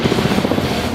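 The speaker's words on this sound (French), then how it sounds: "Cet hélicoptère emporte les garçons au-dessus de l'eau pour leur permettre de sauter en chute libre" A helicopter throbs loudly and close as it flies over water, its rotor chopping in a fast steady pulse over a dense engine roar.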